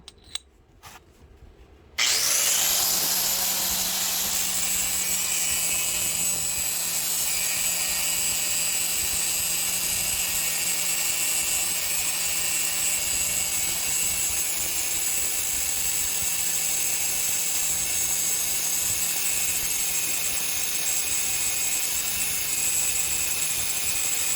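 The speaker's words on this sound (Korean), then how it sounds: "다음 작업은 저만의 기술 회전 그라인더 작업입니다." A rotary grinder starts after a brief quiet moment and then runs continuously at a high, steady whine with a constant grinding hiss, loud and close for over twenty seconds with no speech.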